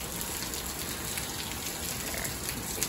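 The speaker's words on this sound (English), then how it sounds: "It's raining so hard." Heavy rainy-season rain pours down in a dense, loud, unbroken hiss of drops striking surfaces, steady from start to finish with no voices.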